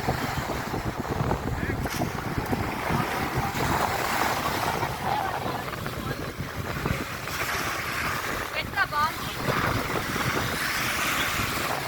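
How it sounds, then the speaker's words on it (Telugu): Waves washing ashore on a grey-sand beach at Rameswaram, a steady broad surf roar with wind buffeting the microphone throughout and a voice speaking faintly beneath. "grey colour beach in Rameshwar"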